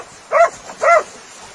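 Two sharp dog barks, evenly spaced about half a second apart, fairly close and clear against a quiet background.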